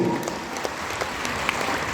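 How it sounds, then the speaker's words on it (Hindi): An audience claps steadily for Rana, a dense, even patter of many hands that fills the moment without any voices over it. "राणा सरकार के लिए एक बार जोरदार हाथ ताली होना चाहिए"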